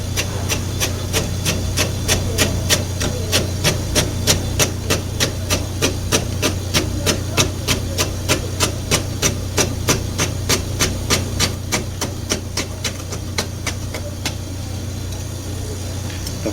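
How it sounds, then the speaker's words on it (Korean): A knife chops pickled radish into long strips on a cutting board, a fast, even run of sharp taps over a steady background hum, close and continuous without talk. "그 다음에 단무지도 그 오이랑 당근 썰듯이 길게 썰어주시면 돼요"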